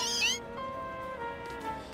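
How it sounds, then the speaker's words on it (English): Meowth, the Scratch Cat Pokémon in Pokémon Legends Z-A, gives a single drawn-out, tonal meow with a rising squeaky start, close and clear, followed by a soft tail of ambient game sound. "Oh, look at that Meowth."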